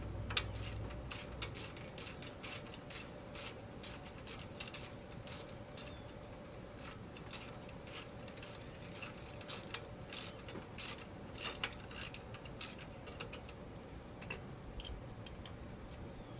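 Socket wrench ratcheting on an 8mm bolt while removing the kickstand from a 2003 KTM 200SX dirt bike, a steady run of rapid, close metallic clicks going on without a break, with no talking.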